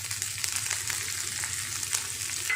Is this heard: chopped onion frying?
yes